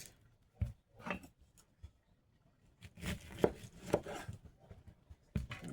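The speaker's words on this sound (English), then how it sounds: "I love this knife because it slices right easily." A sharp knife slices through food on a board, producing irregular short cuts and thumps, close and moderately loud, with quiet gaps between bursts.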